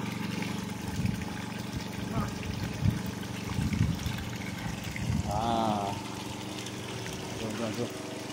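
Water pumped from a bored well at Kuala Nerang during a pump test pours and splashes steadily at moderate distance, with compressor-like droning underneath and someone talking over it.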